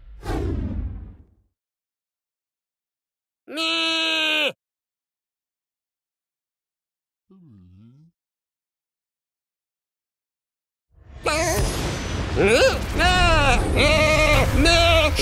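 The Sheep Creep enemy in Skylanders Trap Team bleats in short cartoonish sheep cries between silent gaps, with a swooshing trap effect and a narrator's voice at the end.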